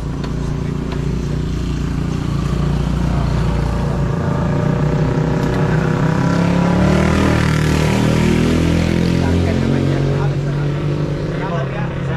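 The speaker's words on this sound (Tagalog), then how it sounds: "dumating na yung na-rent nating motor" A rented dirt bike motorcycle engine runs and revs nearby in Coron town, a loud, continuous drone that rises in pitch midway, with a voice talking over it.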